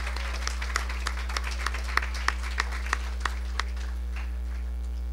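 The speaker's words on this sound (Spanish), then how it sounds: "Un aplauso para ellas" Sparse clapping from a small audience greets two teachers at a campus safety and hygiene event, distinct individual claps over a constant electrical hum, tapering off after a few seconds.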